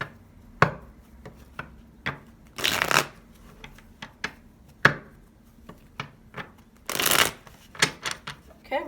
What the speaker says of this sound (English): we're going to cut the deck in 3